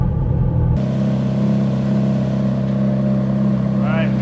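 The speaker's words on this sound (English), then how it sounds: "We got the engine running," Ferrari F430 engine catching and settling into a steady, loud idle rumble with a deep even drone that continues throughout, heard up close in a garage during an oil change.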